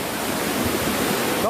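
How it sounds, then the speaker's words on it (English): Floodwater surges through a Kerala town during monsoon flooding, a steady, loud, broadband rushing roar that holds constant throughout with no talking. "the scary water surge"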